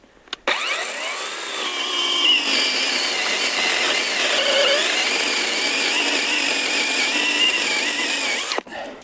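A ProCraft PKA 42li cordless saw cuts through red oak with a loud, continuous whining buzz lasting about eight seconds, then stops abruptly.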